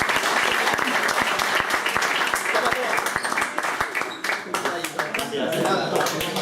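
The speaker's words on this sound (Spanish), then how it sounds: "Muchas gracias. Un aplauso." Audience applause at a Spanish-language talk or sermon, a dense and steady wash of many hands clapping close by, sustained throughout and thinning slightly toward the end.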